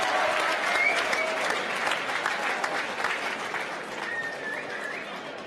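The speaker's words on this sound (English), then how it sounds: "let's have a huge round of applause for these fighters" Crowd applause for the fighters after a three-round bout at a California Extreme Fighting event, a steady, dense wash of clapping with a few faint whistles rising over it.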